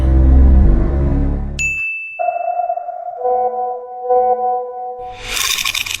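A phone's message notification chimes with a sharp ding after a low rumble, followed by ringing, sonar-like tones that sustain and fade before a burst of noise.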